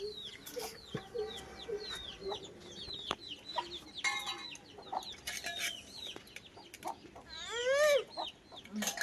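Village chickens cluck and call repeatedly around a rural home, a scatter of short clucks and squawks at close to moderate distance, with a brief louder rising call near the end.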